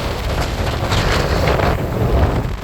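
Strong wind at the seashore gusts loudly into the microphone, roaring and buffeting steadily with a faint wash of surf underneath and no talking.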